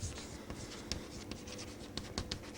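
A pen or marker writes on a board in quick strokes, with short scratchy taps and squeaks in uneven bursts, close and fairly faint.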